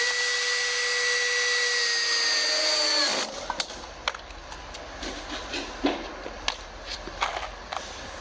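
A power drill drives screws into classic rib metal panels on a shed roof, whirring steadily for about three seconds before cutting off, followed by scattered sharp clicks and light taps nearby.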